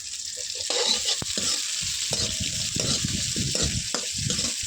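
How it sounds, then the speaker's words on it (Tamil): Onions and green chillies fry over popped mustard seeds, a dense continuous sizzle with bursts of crackling and occasional clicks of a spoon, close up and without speech. "கடுகு பொரிஞ்சிருச்சு, வெங்காயம் பச்சை மிளகா போட்டிருக்கேன்"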